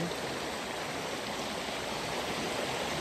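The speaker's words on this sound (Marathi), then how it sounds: "तर ही आपली नदी आहे" Steady, full rush of a long, wide river in the Konkan region, constant and fairly close, with no voices or other sounds over it.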